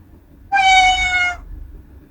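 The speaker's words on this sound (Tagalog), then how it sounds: "So, mayroong mga meow." A cat meow sound effect from the CapCut library: a single clear, tonal meow lasting just under a second over a low background hum, with no talking.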